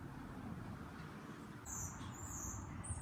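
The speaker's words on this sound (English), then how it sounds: "checks out all the starlings, which you can hear in the background" Starlings call in a garden, high chirps and whistles appearing in the second half over steady low background rumble, faint and somewhat distant, with no one talking.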